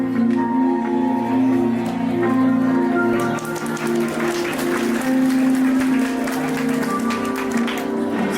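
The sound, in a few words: applause at a press event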